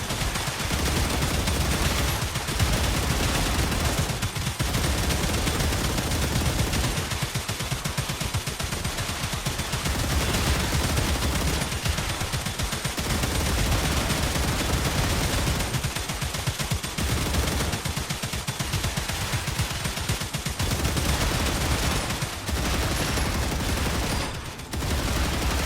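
Defensive gun turrets in the video game StarRupture pour out rapid, relentless automatic gunfire. The loud, continuous barrage is broken only by a few brief pauses.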